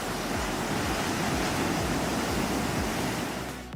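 Ocean waves break in a dense, continuous roar of surf, loud and close, with a steady hiss that fades slightly at the very end.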